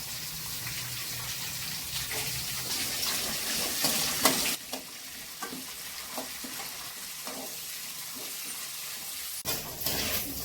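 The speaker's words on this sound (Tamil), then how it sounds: "பட்டாணி வர பட்டு பட்டு வெடிக்க ஆரம்பிக்கும்." Green peas frying in hot oil for mint rice, with curry leaves and mint in the pan, give off a steady close sizzle broken by scattered small pops and stirring scrapes, with one louder burst near the end.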